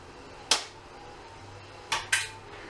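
A sharp utility knife slices the tip off a caulking tube, giving three crisp clicks, one alone and then a quick pair close together, each a short snap with a fast decay against quiet room tone.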